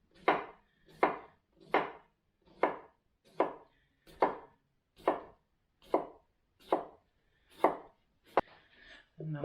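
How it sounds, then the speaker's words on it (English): A cucumber is rubbed down a grater in ten even, rasping strokes a little under a second apart, close and clear, ending with a sharp click and some light handling. "we're going to grate some cucumber"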